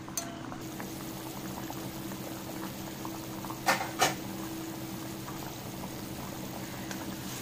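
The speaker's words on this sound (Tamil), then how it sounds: "இப்போ இந்த குழம்பு நல்லா கொதிச்சிருக்கு" Vendhaya kuzhambu, a fenugreek and tamarind curry, bubbles steadily in a pot, a soft continuous simmering burble with two brief louder splashes midway.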